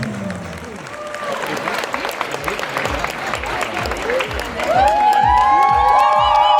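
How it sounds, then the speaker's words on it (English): An audience claps and cheers at a bodypainting festival, sustained applause with whoops that swells louder toward the end, while voices shout and someone speaks through it. "And a big applause"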